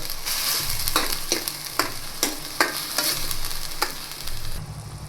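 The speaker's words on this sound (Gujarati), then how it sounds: "હવે લીલી ડુંગળીને આપણે થોડી વાર માટે ચડવા દેશું." Chopped green onions sizzle and fry in a pan, and a spoon scrapes through them in a handful of sharp, evenly spaced strokes over a constant hiss. No one speaks.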